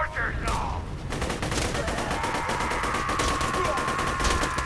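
Rapid gunfire from Borderlands 2 rattles on without a break in dense, repeated bursts of sharp shots, loud and close.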